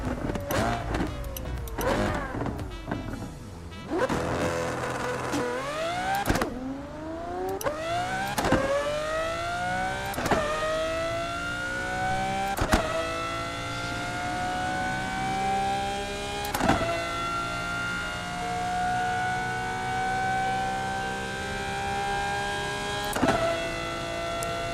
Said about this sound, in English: Let me do a little launch control again.